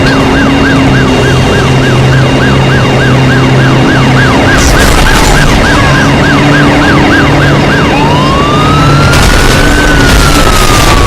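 Police car siren in the driving video game Driver San Francisco, a loud close wailing yelp cycling rapidly, then switching to slower rising and falling wails alongside game engine noise.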